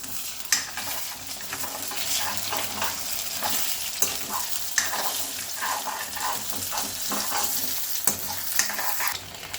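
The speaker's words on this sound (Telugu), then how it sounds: "ఆయిల్ కాగిన తర్వాత ఎగ్ కొట్టేసుకుందాం" Four beaten eggs fry in two spoons of hot oil for restaurant-style egg fried rice, making a loud, steady, close-up sizzle with occasional sharp spatula clicks against the pan and no talking.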